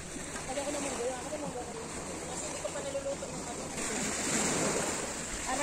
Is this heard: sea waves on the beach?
yes